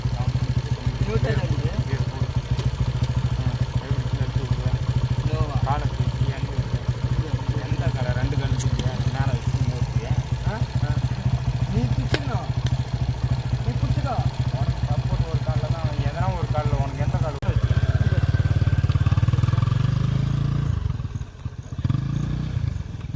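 An old motorcycle engine running steadily in first gear, a close, loud low throb with rattling clatter throughout, revving harder briefly near the end, while people talk over it.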